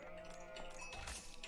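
Sheep bleating in the Age of Empires 4 strategy game, a couple of short, faint wavering bleats over a quiet ambient game soundscape.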